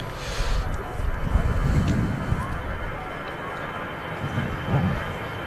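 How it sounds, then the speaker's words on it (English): An EasyJet airliner departing Manchester Airport rumbles at a distance as a broad, fairly faint engine roar that swells and fades, with a voice talking intermittently over it. "EasyJet departing here."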